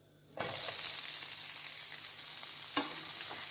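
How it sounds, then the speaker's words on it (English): Onions, ginger, chilies and curry leaves hit hot sunflower oil with a sudden loud sizzle that holds steady and close, with a brief stirring clatter partway through. "Heat 1 tablespoon of sunflower oil and add the onions, ginger, chilies and curry leaves."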